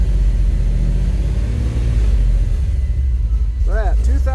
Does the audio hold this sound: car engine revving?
yes